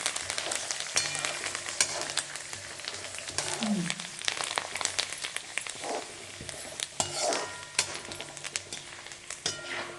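Paper poha chivda crackling and sizzling in hot oil in a home kitchen pan, a steady dense crackle running throughout with occasional stirring clatter, close and moderately loud.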